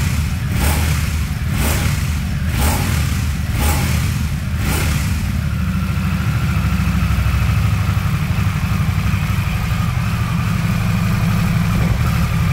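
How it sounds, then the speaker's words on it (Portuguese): A Harley-Davidson Nightster Special motorcycle engine idles loudly nearby, with several quick throttle blips in a row at the start before settling into a steady rumbling idle. "Então eu vou apertar a embreagem e acelerar para vocês."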